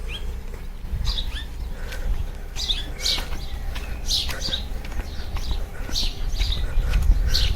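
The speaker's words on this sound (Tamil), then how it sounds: "நல்லா இருக்குது பறவை சத்தங்களை கேட்டுக்கிட்டே இருக்கிறது" Several birds chirping and singing in a village in Switzerland, repeated bright calls over a steady low background rumble, fairly close and lively throughout.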